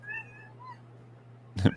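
A pet cat named Gwen gives soft, high meows near the start, a couple of faint wavering calls over a steady low hum, followed by a brief louder burst at the end.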